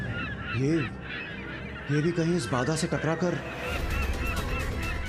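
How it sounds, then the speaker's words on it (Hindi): A flock of honking geese calls repeatedly as it approaches, loud nasal honks in bursts over a dramatic scene, with someone speaking over the birds and wind-like noise swelling at the end. "पक्षियों का समूचा झुंड आ रहा है।"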